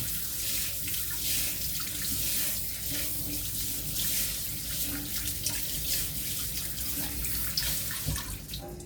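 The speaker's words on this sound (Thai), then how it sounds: "ล้างต้นหอมก่อนนะคะ เราจะมาซอยต้นหอม" Tap water runs steadily into a kitchen sink while green onions are rinsed, a continuous close splashing wash with small shifting spatters and no talk.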